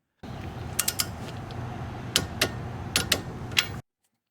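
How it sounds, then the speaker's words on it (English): A torque wrench tightens an outer tie rod on a car during a wheel bearing job, giving a run of quiet ratcheting clicks with a few sharper snaps in irregular bursts over faint background hum. "we're going to finish it off with a torque wrench"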